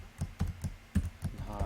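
Keystrokes on a computer keyboard come in quick, uneven bursts while code is typed, a handful of close, clicky taps with short pauses between them.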